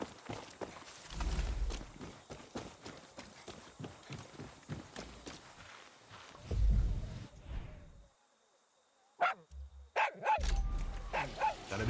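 Dog barking in the Far Cry 6 video game, sharp repeated barks in quick bursts layered over game sounds and footsteps, breaking off for a near-silent pause before a few more barks return.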